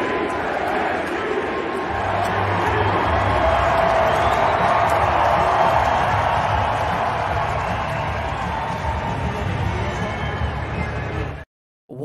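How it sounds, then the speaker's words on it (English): A hockey game arena crowd cheering and chanting MVP, a loud sustained roar of many voices that swells in the middle and cuts off abruptly near the end. "The crowd starts chanting MVP"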